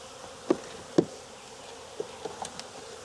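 Honeybees around a hive, a low steady hum under a few sharp, brief taps and clicks close by; no one speaks.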